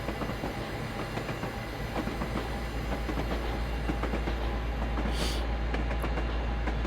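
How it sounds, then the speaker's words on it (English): A steam rail motor runs steadily in the Train Simulator game, with a continuous low rumble and rhythmic clickety-clack of wheels on rails that stays close and loud throughout. "I like the steam rail motor."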